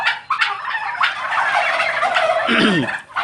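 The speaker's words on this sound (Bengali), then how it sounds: "আপনাদেরকে আরেকটি টার্কি খামার নিয়ে এসেছি এগুলো নতুন টার্কি" Young turkeys about five months old in a shed on a turkey farm gobble as a loud, dense, overlapping chorus close by, with no pause through the whole stretch.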